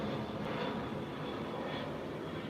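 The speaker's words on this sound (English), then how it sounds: "Plane going over." A fixed-wing airplane passes overhead near a creek, its steady engine drone sustained and fairly loud throughout with no talking.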